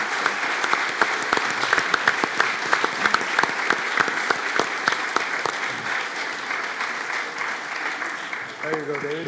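A conference audience applauds a group of panelists with sustained, dense clapping close by, fading slightly toward the end as a voice begins.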